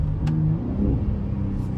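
A 2024 Ford F-150 Raptor pickup's exhaust rumbles low and steady, its tone shifting as the engine drops through downshifts, close and continuous.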